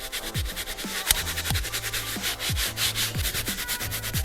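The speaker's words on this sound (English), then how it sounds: "So I'm going to retreat the entire area with Carpet Bomber. Just like so. I'm going to scrub." Brisk back-and-forth scrubbing of a fabric car seat treated with Carpet Bomber cleaner, a close, rhythmic brushing scrape repeating about twice per second with no voices.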